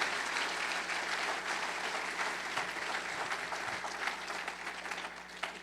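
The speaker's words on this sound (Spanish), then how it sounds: "round of applause to the Lord" Church congregation applauding during a Spanish-language worship service, a sustained, even roar of many hands clapping that fills the space, steady and moderately loud, with a low hum underneath.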